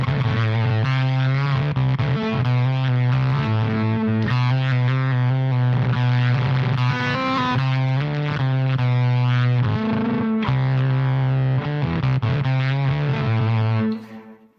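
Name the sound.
guitar fuzz pedal synth-like tone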